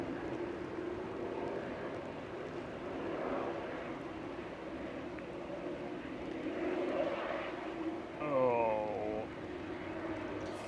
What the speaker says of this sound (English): 787-8, 5-year-old aircraft coming in